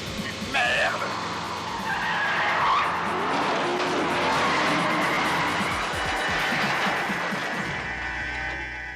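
Cars racing in a chase as one tries to overtake, with engines roaring close and tires screeching through a long sustained skid under tense shouting voices.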